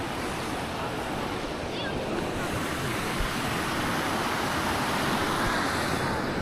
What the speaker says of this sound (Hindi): पानी की कितनी शांत वैसी आवाज़ आ रही है